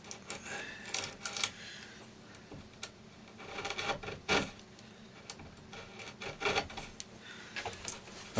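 A chisel trims the end of wood veneer being laid down with an iron, giving a few short, close scraping and slicing strokes at uneven intervals.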